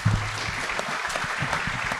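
Applause from an audience at a school board of education meeting as the high school principal is introduced, steady clapping filling the room for a couple of seconds with no one speaking.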